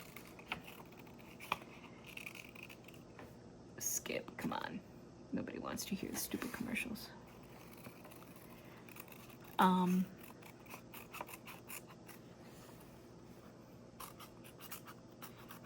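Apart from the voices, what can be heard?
cutting paper with scissors for a journal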